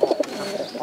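Pigeons held in an enclosure coo softly, a few low murmuring calls close by with steady background noise, no one speaking.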